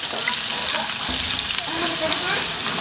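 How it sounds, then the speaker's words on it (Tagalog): Carrots and potatoes for kaldereta frying loudly in a pan, a dense continuous sizzle and crackle with a few stirring knocks, close and steady. "Pirito na po natin tong carrots at patatas."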